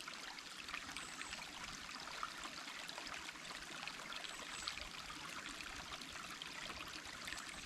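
Clean water flows along a natural stream in a steady, close, bright rushing trickle that never lets up, with no voices.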